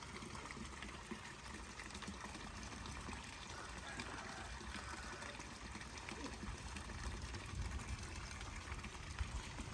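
Heavy rain pours around a garden house as water runs and flows, a dense, steady rushing wash that stays loud and even throughout without clear breaks.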